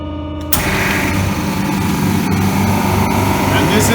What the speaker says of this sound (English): So, first we start the mixer. After that, we start the compressor.